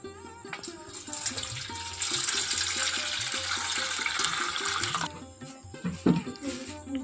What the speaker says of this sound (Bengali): এখন আমি এই রকম একটা পাত্র নিয়ে নিয়েছি এর মধ্যে নিয়ে নিচ্ছি জল